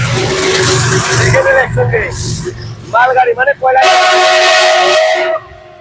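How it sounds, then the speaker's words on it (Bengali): Trains at Chapar railway station in Assam pass with loud broadband rumble and a sustained horn-like blast near the end, heard over near, continuous talking. "দুইখান রেল আমরা একসঙ্গে দেখলাম"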